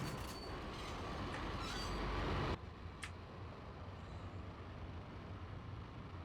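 Train rolling on rails in the video game Max Payne, a steady broadband rumble that cuts to a quieter continuous hum partway through, with a brief high screech afterward; no talking.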